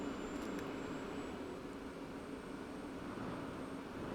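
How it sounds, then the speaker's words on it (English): An F-16 jet engine in a flight simulator game spools up during start-up, a steady, broad whine with a rising high-pitched turbine tone, held at an even level the whole way. "So you can see here the engines start to spool."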